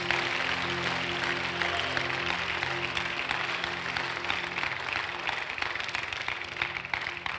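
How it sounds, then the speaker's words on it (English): A church congregation claps continuously during a worship service, a dense, even patter of many hands over a low, steady hum of sustained instrument tones. "Clap for Jesus."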